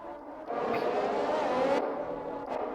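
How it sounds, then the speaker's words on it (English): Formula 1 cars on a warm-up lap in the racing video game F1 2021, a steady loud engine drone with a swelling pass around the middle, continuous for the whole stretch with no talk. "So here we go for the warm-up lap. Everybody's going away."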